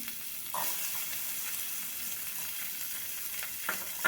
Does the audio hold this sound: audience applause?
no